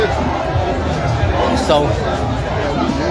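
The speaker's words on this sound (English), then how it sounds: "They're singing, shouting all over the place." A large crowd in Liberia sings and shouts as President Weah arrives home, a steady distant roar of many voices with a commentator talking over it.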